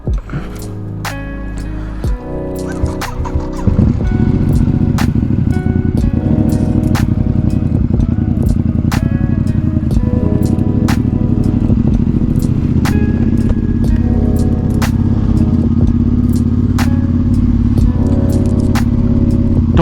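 A Ducati XDiavel motorcycle fitted with a Termignoni exhaust rumbles close by, idling unevenly before the engine note thickens into a loud, steady deep roar, punctuated by sharp clicks.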